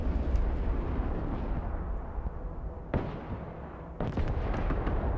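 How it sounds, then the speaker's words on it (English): Artillery fire in the Broken Arrow war game comes as a sustained rumble of distant blasts. Two sharp, louder impacts crack through it a second apart, and no one speaks. "There's artillery somewhere else, but I don't know where."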